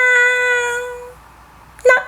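A human voice imitates a cat's meow while reading a children's farmyard story, giving one long drawn-out meow, then a short pause and a brief spoken burst.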